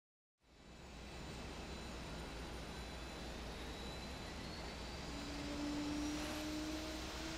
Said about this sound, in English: we are in the Navy's current jet trainer, the McDonnell Douglas T-45 Goshawk